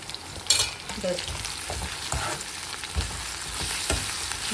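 Cowpea curry with softened onions, salt, turmeric and coriander powder being stirred in a pan: a close, steady sizzle broken by repeated spatula scrapes and taps.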